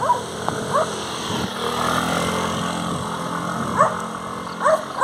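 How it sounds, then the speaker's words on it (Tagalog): A local dog barks several times in short yips, set over the steady hum of an engine running nearby. "Ayun, may aso hala. Local."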